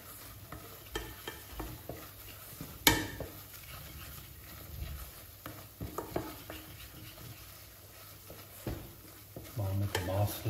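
A butter and flour roux cooks gently in a pot for a Czech dill sauce, with quiet sizzling under repeated scraping stirs and a sharp clink of utensil against metal near the start.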